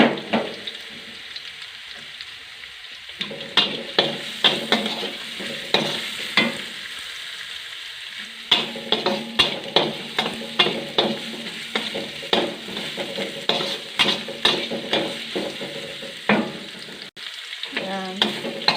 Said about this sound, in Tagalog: Hulog na natin ang bawang. Sunod natin ang luya.